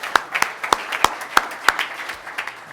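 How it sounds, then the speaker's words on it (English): A roomful of people at a Rotary Club of Tulsa meeting claps together, about a dozen sharp, fairly loud claps in an uneven rhythm that thins out toward the end. "Let's give a round of applause for it real quick"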